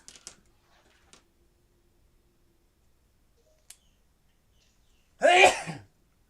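A single loud, forceful sneeze bursts out after a stretch of near silence broken only by a few faint clicks.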